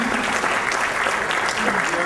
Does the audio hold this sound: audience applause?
yes